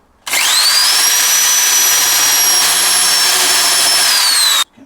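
A power drill fitted with a hole cutter bites into the wooden floor of an LT35 camper van, a loud steady whine with a rising pitch at the start, held for about four seconds and then stopping abruptly.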